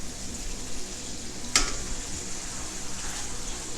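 Boneless skin-on butterflied chicken sears in a hot pan, giving a steady broadband sizzle that holds throughout, with one sharp brief crackle near the middle.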